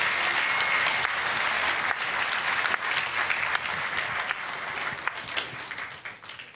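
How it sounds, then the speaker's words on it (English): A church congregation claps for Jesus in a steady, dense round of applause that stays loud throughout and tapers slightly at the end. "Clap for Jesus."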